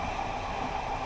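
Al Atlas passenger train in Morocco moving along the track, a steady broadband rumble and rushing noise heard up close without pause.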